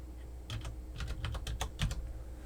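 Quick bursts of keystrokes on a computer keyboard, a short run of close, crisp clicks in uneven rhythm over a quiet background.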